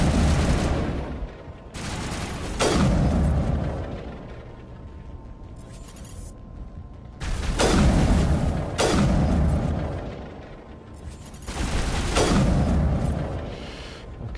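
Heavy musket-like shots boom in Mass Effect Legendary Edition, four loud blasts spaced a few seconds apart, each trailing off in a long rumbling decay.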